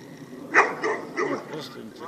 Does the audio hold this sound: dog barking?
yes